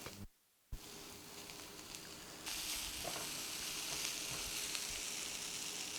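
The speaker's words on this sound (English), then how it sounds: "Boiled noodles I am going to add it." Boiled noodles fry in a pan with a steady, fairly quiet sizzle that cuts out briefly, then returns and grows a bit louder and brighter.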